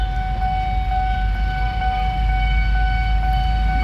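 A train rolls past a lowered level crossing barrier on a project road, giving a constant loud rumble overlaid with steady warning-signal tones, with no voices.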